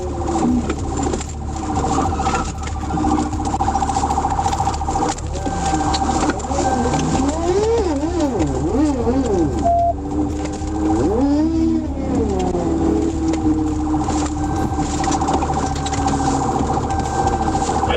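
A car speeds through oncoming traffic while fleeing police. A constant loud roar of engine and road noise is overlaid midway by wavering, rising and falling siren wails.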